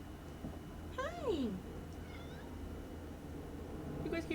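A house cat gives a clear rising-then-falling meow, followed later by fainter, shorter meows over a quiet room background.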